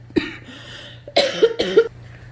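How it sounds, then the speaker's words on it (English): Several harsh coughs up close, one sharp cough followed by a cluster of rough, throaty coughs, with quiet pauses between them. "I started coughing a lot"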